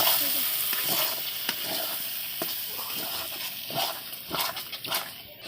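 Spices, dry red chilli and vegetables fry in a kadai with salt and turmeric, a steady soft sizzle with scattered clinks and stirring scrapes, heard at moderate distance without speech.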